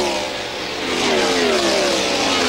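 A 1998 IndyCar engine screams from the in-car camera during the Dura Lube 200 at Phoenix, a high, harsh wail rising quickly in pitch as the car accelerates, loud and close throughout.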